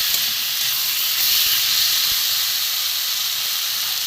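Fried potatoes stirred in a hot pan with onion and garlic for a papad curry: a steady, bright sizzle and hiss runs throughout, close and even, with faint scrapes underneath.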